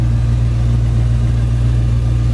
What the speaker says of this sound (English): Engine runs real smooth.